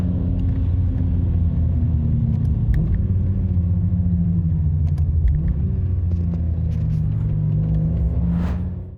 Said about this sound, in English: Now the transmission will downshift and rev match each gear.